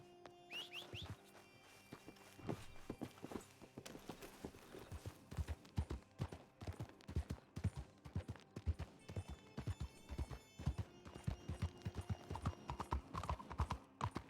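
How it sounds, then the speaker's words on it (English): Horse hooves clip-clop steadily in a RedM roleplay game, a rhythmic walking gait heard close and fairly loud, with a brief whinny-like tone at the start. "desert horsey."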